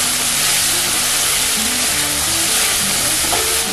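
Spice paste with turmeric and chili powder fries loudly and continuously in hot oil, a dense close-up sizzle that is being stirred through, with no voices.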